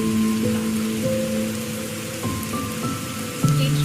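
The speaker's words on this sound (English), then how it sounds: "Now just imagine the sound of the soft rain outside." Soft rain falls outside, with drops tapping steadily and gently against a window pane, accompanied by faint sustained tones.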